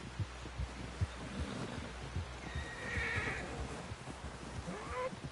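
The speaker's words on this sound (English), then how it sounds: "Someone help John down off this horse." A horse whinnies in a video game, a drawn-out neigh rising over steady game ambience with dull rhythmic thumps underneath, fairly quiet and without talk.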